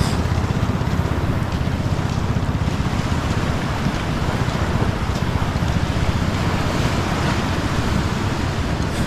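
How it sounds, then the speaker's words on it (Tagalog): A motorized boat's engine runs at sea, a steady close broadband roar mixed with rushing waves and wind buffeting the microphone throughout. "Yan, mandar na ulit yung bangka."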